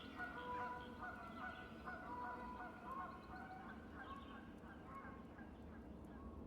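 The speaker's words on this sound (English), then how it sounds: "You can hear geese." Geese honking in the game Tell Me Why: a flock honks repeatedly at a moderate distance, with overlapping calls over a low, steady outdoor rumble.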